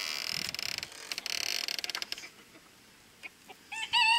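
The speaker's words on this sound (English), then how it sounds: "Let's go in here and look at the chickens." Chickens and a rooster inside a coop, with a creaking rush of noise at first, then scattered clucks and a sharp rooster call rising loudly at the end.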